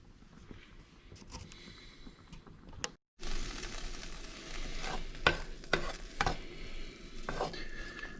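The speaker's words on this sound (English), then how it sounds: "So the bacon's starting to cook." Bacon frying in a pan while cooking cepelinai (potato zeppelins), with a steady close sizzle and occasional scrapes and clinks of utensils against the pan, briefly cut off near the start.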